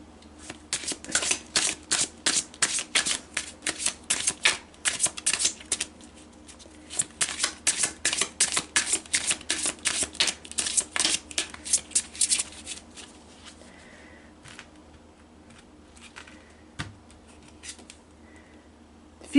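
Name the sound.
shuffling tarot cards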